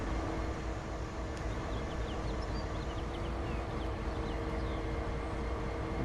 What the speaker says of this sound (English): Here comes a train right here.